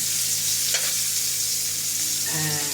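Ginger fries in a hot pan with a steady, close sizzle, and a utensil briefly scrapes and stirs it around.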